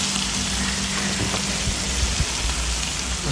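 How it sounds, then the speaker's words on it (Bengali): Fish frying in hot oil, a steady, dense crackling sizzle that stays loud and continuous throughout with no voices. "এদিকে হচ্ছে মাছ ফ্রাই"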